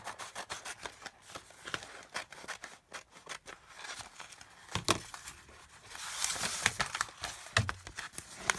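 Scissors cutting material for a Dollar Tree junk journal cover, close up: repeated snips and rasping cuts in an uneven rhythm, with soft rustling and handling between them.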